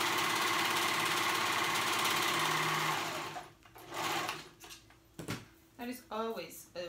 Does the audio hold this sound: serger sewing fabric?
yes